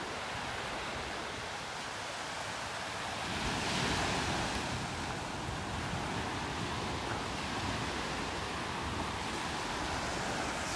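Waves roll continuously onto a beach in North Naples, Florida, in a broad steady wash of surf mixed with gusting wind buffeting the microphone, with a louder surge partway through.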